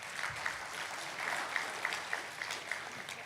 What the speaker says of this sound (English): another round of applause to our last prominent speaker